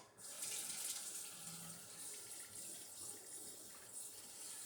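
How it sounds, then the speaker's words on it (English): Cold tap water runs steadily from a faucet into hot sugar water, a continuous hissing gush that starts suddenly and holds at close range with no talk. "so I'm going to add some cold water to it."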